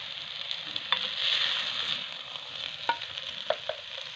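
Vegetable and egg fried rice being scooped and dished out of a hot pan: a steady sizzling hiss with a few sharp scraping clinks of the spatula against metal, close and moderately loud, no talking.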